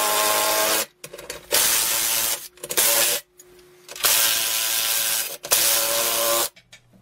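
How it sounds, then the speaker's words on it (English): A cordless drill driving bolts whirs in several short bursts separated by brief pauses, close and fairly loud, with small clicks in between. "if you have a drill like this, it's much quicker"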